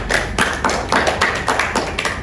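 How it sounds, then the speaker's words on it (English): Audience at a school debate claps for the negative team, a run of quick, evenly spaced hand claps close by, with no talk over them. "Please give a warm round of applause for the negative team."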